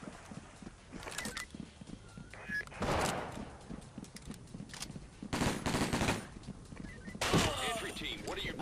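Bursts of automatic gunfire and single shots in the SWAT 4 tactical shooter game, coming in several loud clusters over steady background noise.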